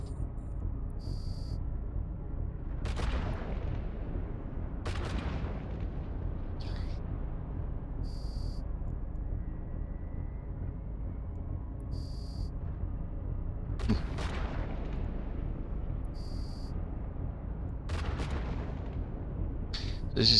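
Ship guns firing three at a time in EVE Online, sharp booming volleys every few seconds with short whooshing tails, spread apart over a low steady hum.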